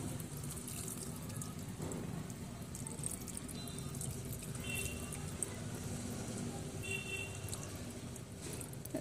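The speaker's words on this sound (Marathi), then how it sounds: "तर आपण याला ईडलिंबूच्या झाडाला पाणी घालून घेऊया।" Water poured from a container onto a potted lemon plant, a steady continuous splashing and trickling wash that runs evenly throughout with no talking.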